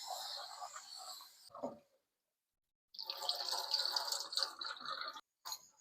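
Sabudana (sago pearls) is rinsed in a bowl of water with close sloshing and splashing in two bursts, separated by a brief silence.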